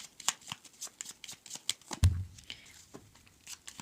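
A deck of tarot cards is shuffled in quick riffling bursts, with soft papery flicks repeating across the clip and one heavier thump of cards near the middle.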